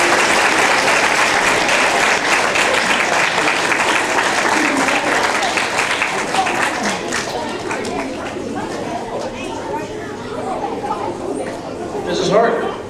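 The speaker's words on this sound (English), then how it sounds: "Please give them a round of applause." Audience applause at an awards ceremony, loud sustained clapping from a crowd that gradually thins and fades toward the end, with some chatter underneath.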